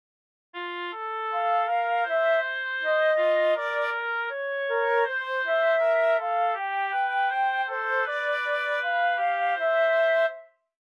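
Contrapuntal fugue passage in its third development section, several independent melodic lines weaving together in steady tonal polyphony, played continuously and clearly without any voices.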